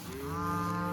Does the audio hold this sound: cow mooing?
yes